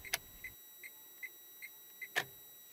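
A Lada Largus Cross turn signal ticks evenly, about two to three ticks a second, with sharper clicks from the stalk at the start and end, in a quiet cabin.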